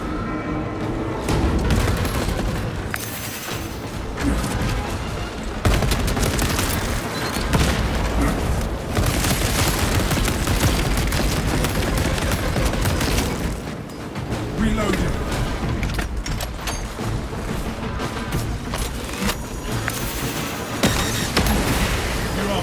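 Sustained gunfire aimed at exposed cooling rods in a sci-fi shooter game, dense and loud with booming impacts throughout, under game music and effects with speech mixed in.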